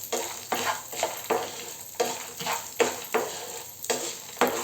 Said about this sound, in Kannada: ಈಗ ಇದನ್ನು ಚೆನ್ನಾಗಿ ಫ್ರೈ ಮಾಡಬೇಕು. ಈ ರೀತಿಯಾಗಿ ಫ್ರೈಯನ್ನು ಮಾಡಿ